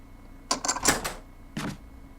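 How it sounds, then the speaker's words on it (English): A lockpick works a metal door lock in the Resident Evil remake, a quick cluster of sharp mechanical clicks and clacks followed by one more click after a short pause, crisp and close. "You used the lockpick."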